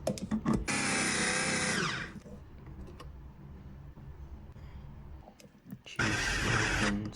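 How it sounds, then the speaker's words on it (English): An electric kitchen grinder processes vegetables and meat in two loud, steady whirring bursts, one lasting about two seconds and a shorter one near the end, separated by a quieter stretch of faint handling sounds. "She's making something using this beautiful grinder."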